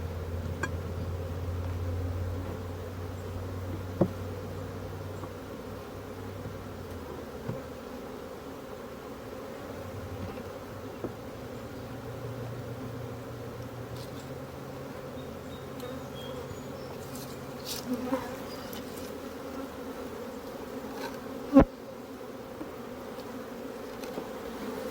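Honey bees drone in a continuous low hum around an open hive at an outdoor sheep yard, with occasional faint clicks and knocks over the steady buzzing.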